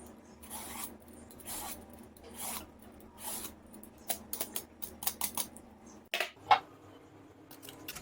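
Knife slicing through eggplant on a board during home cooking, a series of close scraping, rasping cuts with short pauses, then a sharper knock near the end.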